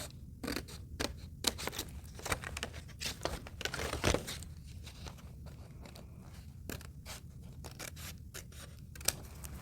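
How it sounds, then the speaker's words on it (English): Quiet, close snips of scissors cutting shapes from paper in an irregular series of crisp clicks and rustles. "now I've cut out the center shapes from my design"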